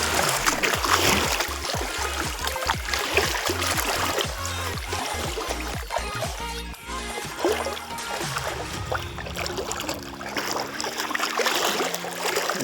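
Water splashing and flowing while fishing in a grassy flooded spot, steady close sloshing and trickling with repeated splashes and a low rushing undertone.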